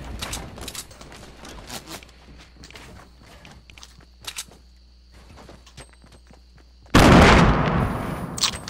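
Grenade blasts and gunfire in a Fortnite Battle Royale match: scattered faint shots and footsteps build to one loud, close explosion with a sustained rumbling roar.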